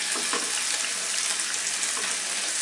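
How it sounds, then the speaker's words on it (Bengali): Chopped tomatoes fry in oil in a pan, cooking down for a rui fish tikka masala, giving a steady, loud, watery sizzle that holds evenly throughout. "দিয়ে আমার একটু ভুনে নিতে হবে টমেটোটা জাস্ট নরম হওয়া পর্যন্ত"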